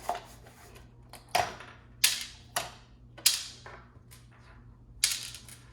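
Screws being removed from a Waterpik water flosser during a teardown, heard as a series of sharp, close metallic clicks and small rattles of screws and parts at irregular intervals over a low steady hum.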